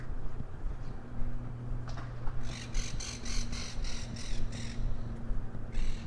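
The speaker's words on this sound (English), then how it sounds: "Those sound like monk parrots." A flock of monk parakeets sends out rapid, harsh squawking calls in repeated bursts, moderately distant, over a low background rumble of city traffic in South Ozone Park, New York City.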